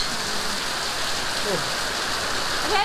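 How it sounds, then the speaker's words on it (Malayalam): Heavy rain pours down in a steady, dense hiss that does not let up, close and even, with faint traces of a voice beneath it. "എന്നിട്ട് ഇന്നാണ് പിന്നെ മഴ സ്റ്റാർട്ട് ചെയ്തത്. നല്ല മഴയാണ് ഇന്ന്."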